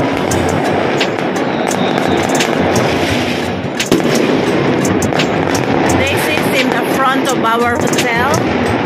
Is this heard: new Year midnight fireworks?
yes